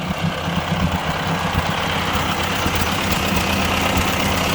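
A 1957 Ford 841 tractor engine idles steadily after carburetor work, a loud, close, continuous rumble with an even knocking pulse and no voices.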